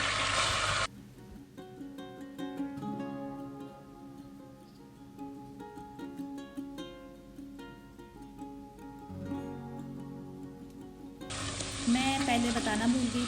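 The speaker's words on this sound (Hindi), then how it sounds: "तो लहसुन अदरक अच्छे से भुन गया है" Garlic and ginger fry with spices in a pan for beef paye, giving a soft background sizzle under music, with louder, brighter crackling bursts at the start and the end.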